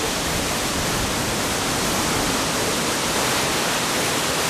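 Angel Falls, wide and heavy with water, sends out an unbroken, dense roar of falling water, loud and steady throughout without voices.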